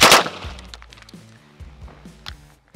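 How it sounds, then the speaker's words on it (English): A PM63 submachine gun fires a single 9x18 Makarov round into a raspberry White Claw can: one loud, sharp blast at the start, then a fading ring and faint clattering aftersounds. "Fuck it, we're gonna shoot a White Claw. 9x18 Makarov versus Raspberry."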